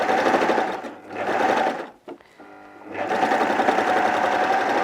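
An overlocker serger stitches the raw edges of kids' coveralls, its loud rapid mechanical whir running steadily, pausing briefly in the middle with a few clicks, then resuming at full speed.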